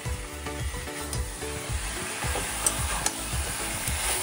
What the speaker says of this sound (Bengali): একটু কষে নিই এটা, তারপর প্রেশারে দেবো